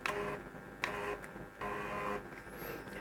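An Arkray PU-4010 urine analyzer's built-in printer feeding paper, a faint steady mechanical whir broken by small clicks and brief pauses, heard close and alone.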